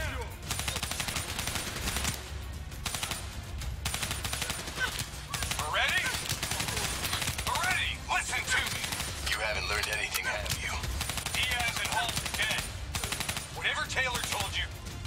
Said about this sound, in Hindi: ऑलराइट गाइस कोई स्नाइपर से मार रहा है।